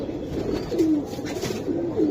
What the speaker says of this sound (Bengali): সিলভার কবুতর ভাই